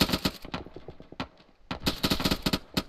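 Rapid bursts of automatic gunfire in a military shooter game set in a 6th Airborne Division operation, loud and close, with a brief lull midway before the firing resumes in dense repeated volleys.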